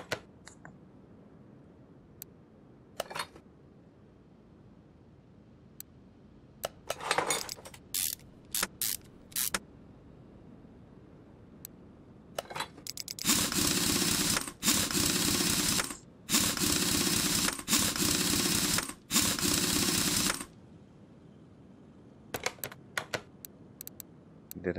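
Brake pad work in the video game Car Mechanic Simulator 2021: sparse clicks and tool taps, then several loud sustained bursts of mechanical whirring, likely an impact tool, each lasting about a second or two.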